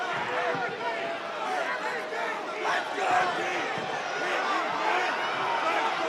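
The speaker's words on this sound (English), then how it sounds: "Crowd wants more. They're impatient." Restless fight-night crowd roaring continuously in a packed arena, a dense wall of shouting and yelling with scattered whistles and calls throughout.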